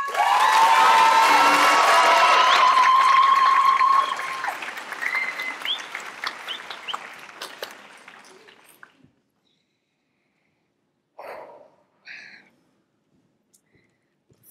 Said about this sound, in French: applaudissez s'il vous plaît Madame Wendy Louange